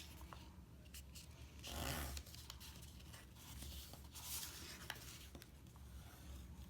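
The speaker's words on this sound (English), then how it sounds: "let's get the bottom folded up and scored, bone folded really well" A bone folder scrapes and rubs along paper as it is scored and folded, giving soft, close swishes and a few sharper creasing strokes at low volume.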